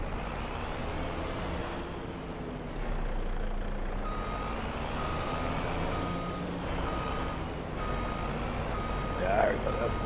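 A truck's reversing alarm sounds in the farming video game Farming Simulator 25, played on PS5 on the Elmcreek map. The steady beeps are faint and sit under a low engine drone, with a voice talking over them.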